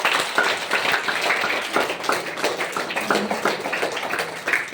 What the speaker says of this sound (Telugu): మరి ఇక్కడ మనకు అన్ని ఏర్పాటు చేసిన మీ సార్కు, టీచర్స్కు అందరికీ ఒకసారి క్లాప్స్.